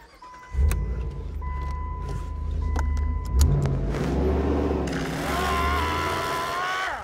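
A pickup truck door thuds, then the engine runs and revs as the truck pulls away, with a whine rising toward the end; no talking.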